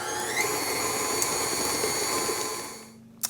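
Electric mixer beating cake batter with lemon and vanilla extract, a loud steady whirring drone that winds down near the end and ends in a short knock.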